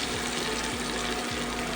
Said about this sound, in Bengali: মশলার যে পেস্টটা করেছি সেটা দিয়ে দিলাম পুরোটা এর সাথেই কষে নেব মশলাটা